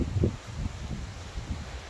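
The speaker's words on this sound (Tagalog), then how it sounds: "amihan na ngayon ng hangin. Yan, alam yan na. Yan o, medyo malakas na." Strong northeast monsoon wind blows across a pebbly shore, a steady low rumbling buffet with gusty swells throughout, close and fairly loud, with no other clear sounds.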